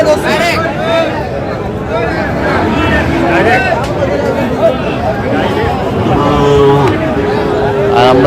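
Sahiwal bull calves and other cattle low and moo amid the crowd at a busy cattle market, loud and close, with constant voices and chatter around them.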